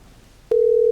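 A phone dial tone in a roleplay video game: a single clean, steady electronic tone starts abruptly after a click and holds loudly for about half a second before cutting off.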